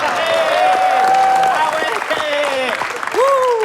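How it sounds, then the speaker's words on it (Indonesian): An audience applauds at an Indonesian comedy show, a steady wash of clapping that runs the whole time with voices over it. "Tepuk tangan dong sekali lagi untuk Awe"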